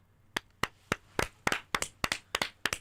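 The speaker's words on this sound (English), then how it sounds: "Claps all around" Sharp, distinct hand claps ring out one at a time in an irregular rhythm, about a dozen close, crisp claps with short gaps between them and no voices.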